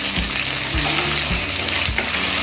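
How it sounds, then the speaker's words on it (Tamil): Potatoes, carrots, beans and green peas fry in hot oil for navratan pulao, giving a dense, loud, continuous crackling sizzle close by, broken by a few soft thumps of stirring. "எண்ணெய் நல்லா ஹீட் ஆனதும் உருளைக்கிழங்கு சேர்த்துக்கிறேன், கேரட், பீன்ஸ்,"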